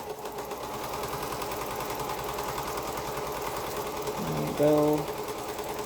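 A sewing machine stitches a quilt along a quarter-inch seam, humming steadily at moderate volume with a brief louder burst near the end. A person talks softly over it.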